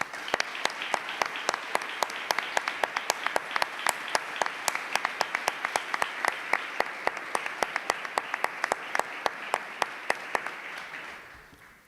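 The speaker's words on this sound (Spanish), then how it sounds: "Yo os pido que le demos un aplauso." Sustained audience applause during the coronation celebration of the Virgen de Regla in Chipiona, a dense wash of many hands clapping steadily for several seconds before fading out at the end.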